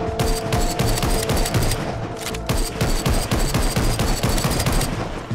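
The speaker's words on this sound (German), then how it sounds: "Einfach in die Richtung da hinten ballern, trifft eh mal die richtigen." Dense, loud bursts of automatic gunfire from shooting zombies in the VR game Arizona Sunshine, rapid shots rattling almost without pause, with a brief lull midway.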